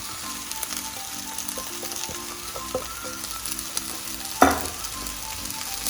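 Day-old boiled rice is stir-fried in a pan for chicken fried rice, giving a steady hiss of frying, a few light scrapes and one sharp clatter near the end, over faint background music.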